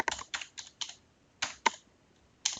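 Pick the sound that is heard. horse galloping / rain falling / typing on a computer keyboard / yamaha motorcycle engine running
typing on a computer keyboard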